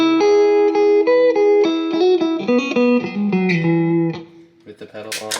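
An electric guitar through a little reverb with no boost pedal engaged, playing a clean melodic line of plucked notes that ring and slide downward, then sparse picked notes trailing off.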